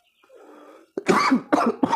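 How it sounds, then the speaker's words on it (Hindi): A faint breathy noise, then three harsh coughs in quick succession, close and loud. "खांसी हो चुका है"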